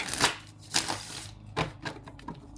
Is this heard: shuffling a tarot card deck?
yes